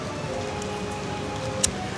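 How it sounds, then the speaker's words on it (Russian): Rain falls steadily in Hanoi's French Quarter, an even patter and hiss on nearby surfaces with one sharp drip near the end. "Хорошо идет дождь"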